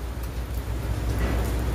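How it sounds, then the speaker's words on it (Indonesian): Heavy rain pouring in Jeddah, Saudi Arabia, a dense, steady hiss and patter with a low rumble beneath. "Hujannya sangat sudah mulai lebat ini."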